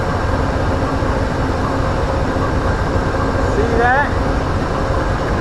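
A southbound Amtrak train rolls along in Lynchburg, Virginia, with a constant heavy rumble of locomotives and wheels on rail, heard from on board while someone speaks briefly over the noise.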